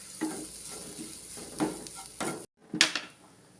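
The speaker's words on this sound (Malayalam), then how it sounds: "ഈ നെയ്യിലോട്ട് പൊടിച്ച് വച്ചേക്കുന്ന തേങ്ങ ഒന്ന് അതിലോട്ടിട്ടൊന്ന് ചൂടാക്കാം." Grated coconut heating in ghee while being stirred, a soft steady sizzle broken by scraping stirs and a brief gap before louder clattering strokes near the pan.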